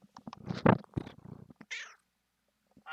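A pet cat makes short vocal sounds, a brief meow-like cry following a quick run of chirps and grunts, up close and fairly quiet, with another short call starting at the very end.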